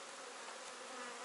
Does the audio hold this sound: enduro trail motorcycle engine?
no